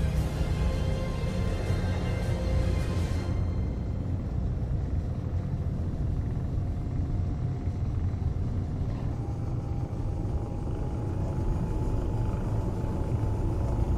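A spaceship engine lifts off in the video game Space Engineers, a deep, steady rumble that holds loud and unbroken throughout, with a faint high whine fading early on.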